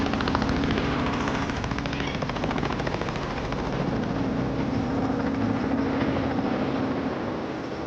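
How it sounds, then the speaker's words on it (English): A helicopter hovers close over an orphaned baby rhino in Kruger National Park, its loud rotor chopping and engine whine continuous and steady throughout, with no talking. "The helicopter's hovering over him here."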